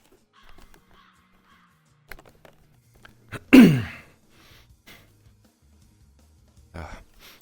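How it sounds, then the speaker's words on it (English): A single loud, close nose-blow from a person, one sharp burst of a couple of seconds standing out from near silence, with a few faint knocks and rustles before and after. "Sorry, chat, I had to blow my nose."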